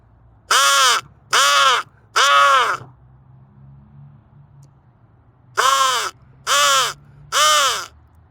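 Crows cawing loud and close: three harsh, drawn-out caws, a pause of about two seconds, then three more in the same even rhythm, with a low background hum and no talk.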